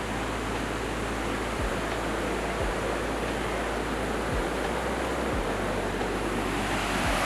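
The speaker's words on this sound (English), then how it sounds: "Epic waterfalls." A waterfall pours in a steady, loud, broadband roar that fills the scene without pause, with a few low thumps of wind on the microphone.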